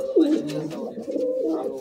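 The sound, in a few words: pet pigeons cooing in a loft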